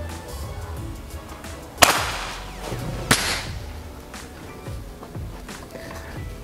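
A PCP air rifle lets off a sharp, loud crack, then a second snap a little over a second later, with quiet room ambience and faint shuffling around them.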